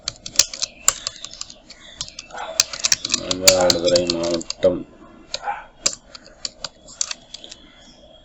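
Quick bursts of computer keyboard typing sit close by, sharp clicking keystrokes in uneven runs, while someone speaks briefly in the middle.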